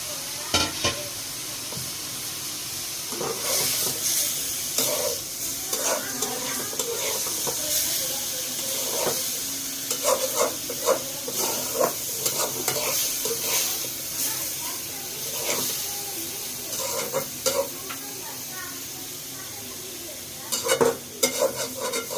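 Chicken and chopped carrot stir-fried for spring roll filling, a steady sizzle broken by repeated scraping and tapping of a spatula against the pan, with soft talk faintly underneath.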